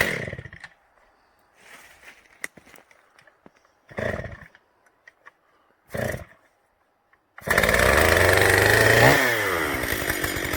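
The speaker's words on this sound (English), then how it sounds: "So we'll be back with a running saw." A two-stroke chainsaw engine fired up after carburetor tuning in a workshop, starting abruptly and running loud and steady with a rising rev, following a few brief knocks and scraping handling sounds.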